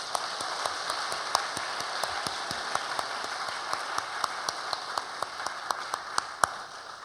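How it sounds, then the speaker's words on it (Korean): A congregation claps during a church ordination service for elders, deacons and deaconesses, a steady wash of soft clapping with sharper individual claps ringing out at regular intervals, moderately loud and with no voices. "하나님께 영광의 박수 올려드리십시다."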